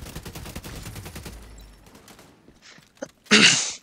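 Gunfire in the video game Division 2 comes as a run of light, thin pops, followed by quieter shots and a brief louder burst at the end.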